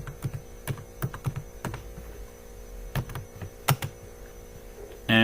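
Code being typed on a computer keyboard at a desk, a run of light, irregular key clicks with a few sharper taps over a steady low electrical hum, fairly close and fairly quiet.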